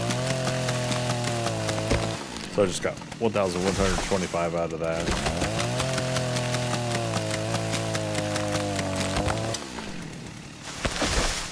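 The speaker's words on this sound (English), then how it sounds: "Right click again to restart the chainsaw." A chainsaw in the video game Rust runs steadily as it cuts wood, a buzzing engine drone that rises and dips with each cut. Someone talks over it throughout.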